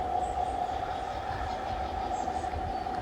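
A steady running rumble of a G scale garden railroad train with a faint continuous whine, even and unbroken throughout, outdoors on a cool, rainy morning with no voices.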